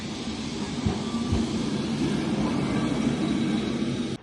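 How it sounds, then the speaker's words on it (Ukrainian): Lisbon's number 28 tram rumbles past on a city street, a steady rolling roar with a couple of sharp clunks early on, fairly close and fading away at the end. "Ось і 28-й трамвайчик."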